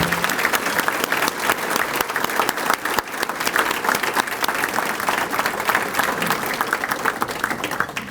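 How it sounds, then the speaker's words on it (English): A breakfast audience applauds Scouting leaders at a mayor's Good Scout event, dense, loud, sustained clapping from a room full of people for about eight seconds. "do a round of applause for our Scouting leaders"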